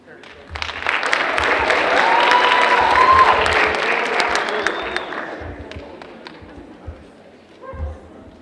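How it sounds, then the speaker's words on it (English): Applause from a school assembly crowd at a Black History Month celebration, swelling over several seconds with cheering voices and a whistle, then fading while speech takes over. "Please give a round of applause."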